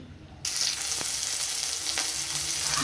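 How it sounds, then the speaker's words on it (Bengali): Bay leaf, cumin, green chilli and onion dropped into hot oil, bursting into a loud, close, steady sizzle after a short quiet moment, with a few faint utensil taps. "তেলটা আমার গরম হয়ে গেছে তো তেলের মধ্যে আমি দিয়ে দিচ্ছি"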